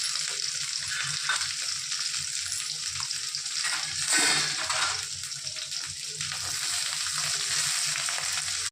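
Shallots and garlic sizzle hard in hot oil with fenugreek while cooking vathal kuzhambu, a loud continuous hiss with a brief surge partway through as they are stirred.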